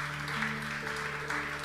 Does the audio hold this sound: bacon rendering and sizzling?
no